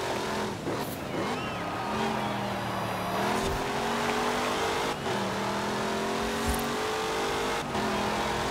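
A muscle car engine in the video game Forza Horizon 4 drones and revs steadily with a buzzy, synthetic tone, pitch rising and falling as it accelerates, with occasional thumps.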